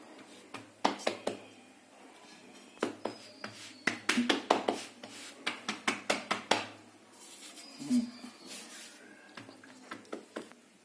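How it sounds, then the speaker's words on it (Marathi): Jowar flatbread dough being patted flat between two hands, a series of soft, close slapping pats in irregular bursts with brief pauses, no talking. "हाताला पीठ लावायचं, हाताला चिटकू नये पीठ म्हणून 2 हातानं थापटायचं।"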